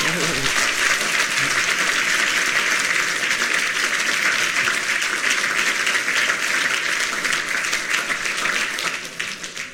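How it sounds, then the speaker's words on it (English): Audience applause at an evening lecture event, a dense, steady wash of many hands clapping that fills the room and holds loud throughout before beginning to thin and fade in the final moments. "please, a round of applause for everyone mentioned."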